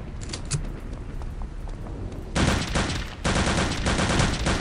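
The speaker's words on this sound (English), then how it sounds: "Thank god they're using Sten guns" Sten gun fire in Return to Castle Wolfenstein, in loud, rapid bursts of automatic shots, with a longer sustained burst toward the end and some mechanical clatter before it.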